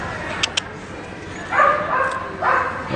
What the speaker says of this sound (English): Oh, doggies.